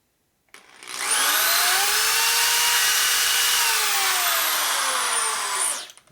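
Small high-speed drill bit whining as it bores a shallow hole about an eighth of an inch deep, a steady loud high-pitched spin lasting several seconds with a slight pitch sag mid-cut, then spinning down; no voices.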